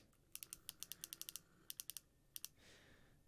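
Clicking buttons on a worn game controller held together with tape, sharp rapid clicks in quick bursts with short pauses between, close but quiet, no speech.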